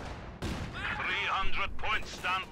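A KV-2 heavy tank fires in the game Company of Heroes 2. A sharp cannon blast is followed by rumbling battle noise under continuous excited commentary.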